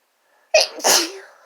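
Set off by chhinkni snuff, one close sneeze sounds as a short sharp inhale snapping into a forceful, breathy blast that fades out over half a second, with silence before it and no voices.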